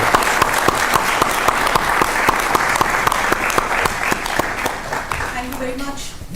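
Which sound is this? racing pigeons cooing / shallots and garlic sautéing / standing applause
standing applause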